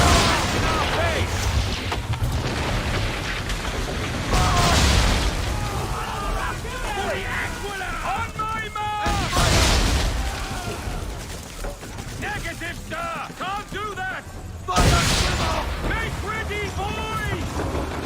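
Ship cannons firing in an Assassin's Creed III naval battle, three heavy booms spaced several seconds apart over wind and sea noise, with shouted voices between the shots.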